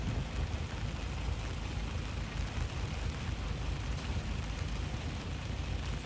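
Heavy rain falls outdoors in the countryside, a steady, dense hiss that stays even and unbroken throughout, with no talk.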